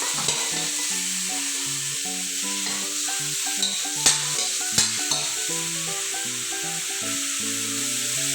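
Beef stir-fried in a wok with dried chilies for Thai basil beef, a steady close sizzle with rhythmic stirring and a couple of sharp metal scrapes, no talking.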